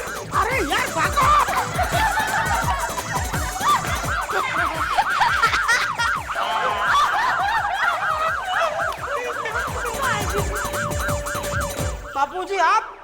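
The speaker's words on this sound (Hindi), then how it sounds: "आप ये सायरन आप बजा रहे थे?" A loud siren wails in a repeating up-and-down pattern for most of the stretch during a comedic Indian sitcom scene, with snickering laughter mixed in, and it cuts off near the end.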